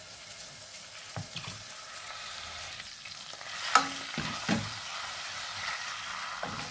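Garlic and onion paste fry in oil in a pan, a moderate steady sizzle with a few louder stirring scrapes and knocks of the spatula, nearby and without talk.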